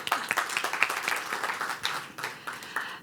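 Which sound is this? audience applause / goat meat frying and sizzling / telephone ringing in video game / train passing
audience applause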